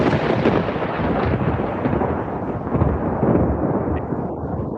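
A thunder sound effect fired from a podcast soundboard button gives a loud, sustained rumbling roll that fades toward the end, with no talk over it.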